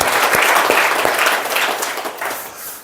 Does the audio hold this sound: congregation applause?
yes